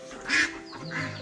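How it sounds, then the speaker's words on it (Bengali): Village ducks outdoors give two nasal quacks, the first louder and the second softer, close to the listener with a low steady background hum. "ওখানে বাইরে সব হাঁসগুলো সব চিল্লাচ্ছে"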